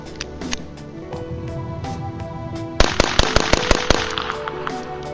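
A Beretta 21A .22LR pistol fires a rapid string of about seven sharp, loud shots outdoors, following a stretch of quieter background noise.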